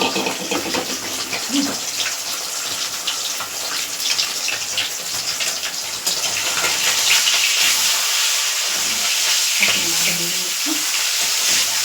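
Katla fish frying in hot oil, a continuous loud sizzle and crackle that stays steady throughout, with occasional stirring and kitchen sounds mixed in.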